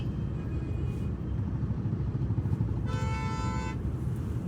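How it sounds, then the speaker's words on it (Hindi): Road traffic jam with a low rumble of engines throughout and a car horn honking in one short blast near the end, fairly close and loud. "पता नहीं यहाँ पे क्यों लगा ये ट्रैफिक इतना।"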